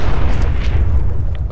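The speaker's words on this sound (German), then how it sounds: "Explodiert einfach alles." A loud, heavy explosion boom in the video game Fallout 4, a dense low rumble that fills the whole moment and carries on without a break.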